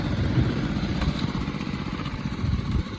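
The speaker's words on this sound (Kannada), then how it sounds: "ಸ್ಟಾರ್ಟ್ ಮಾಡಿರಿ ಗಾಡಿ" A farm vehicle with hydraulics runs at a steady idle nearby, its engine chugging evenly and unbroken throughout with no talk.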